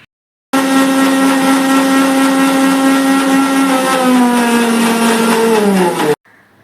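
A kitchen blender mixes a chocolate milkshake with milk, its motor starting abruptly into a loud, steady whir that drops slightly in pitch toward the end before stopping sharply after about six seconds.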